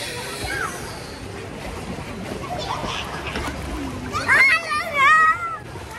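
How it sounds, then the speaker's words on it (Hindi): A young child swims in a blue backyard pool, with steady splashing and sloshing water throughout and brief higher-pitched voice sounds near the end, close to the microphone. "परी स्विमिंग कर रही है"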